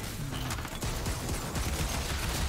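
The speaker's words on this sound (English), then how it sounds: "I love this cannon." Cannon fire from the video game Horizon Forbidden West: Burning Shores, a dense run of rapid booming blasts and impacts over a busy, noisy game soundscape.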